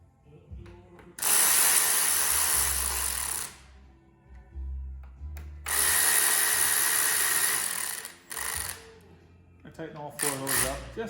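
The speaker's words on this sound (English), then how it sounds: "Tighten all 4 of those up, just enough to hold the bars in place." A power ratchet tightens the handlebar bolts on a Harley Davidson Ultra Classic in two long whirring runs, then several short bursts, loud and close, with a person's voice in the quiet gaps.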